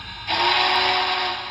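A Broadway Limited Imports Big Boy 4014 model train with a Soundtraxx steam sound decoder sounds its horn once, a loud sustained steamy blast of about a second over a faint background hum.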